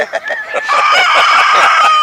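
A rooster on the Île de Ré, France, crows loudly and close, a long strained call rising after a few short clucks, with other birds faintly around it.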